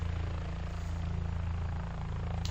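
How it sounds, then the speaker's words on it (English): A camera drone climbing and hovering over Tortilla Flat, Arizona, giving a steady, close buzzing propeller whine that fills the whole moment without a break. "we'll put the drone up here and get a little better look from above"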